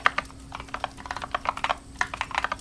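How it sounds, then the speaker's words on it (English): Rapid, uneven clicking of keys on a computer keyboard during a typing test, a steady run of close, crisp keystrokes with no voices. "And I continue to do this typing"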